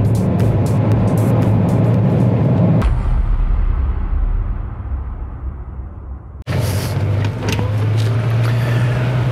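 A 2025 Ford Explorer Active with a 2.3-liter engine and four-wheel drive rolls along a rough gravel dirt road, giving a steady loud cabin rumble with tire and road noise that dips briefly midway, with no talking.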